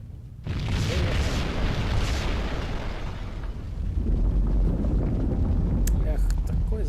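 A loud, sustained rumbling explosion of a factory in the video game Max Payne, with crumbling debris and roaring noise, continuing for several seconds before a few sharp crackles near the end.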